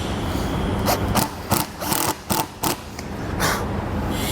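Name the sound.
driving screws through RV awning extrusion rail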